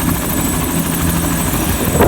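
Helicopters fly over Mitchell Falls, producing a loud, steady rotor drone and engine whine that holds through the whole stretch without voices.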